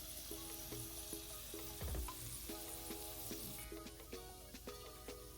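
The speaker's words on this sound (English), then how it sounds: "the vegetable just sauteing by the side" Vegetables sauté in a pan beside egg toast, a soft steady sizzle running throughout, quiet and close, with light scraping and clinking touches along the way.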